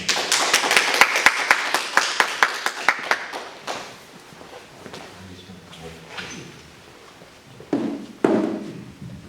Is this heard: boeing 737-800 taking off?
no